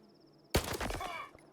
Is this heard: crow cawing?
no